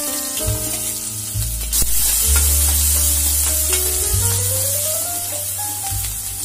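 Chopped onion frying in hot oil for pointed gourd sabji, with a steady loud sizzle and stirring scrapes in the pan, close and alone without talk.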